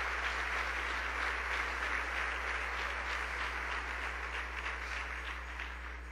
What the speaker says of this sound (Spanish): Démosle otro fuerte aplauso al Señor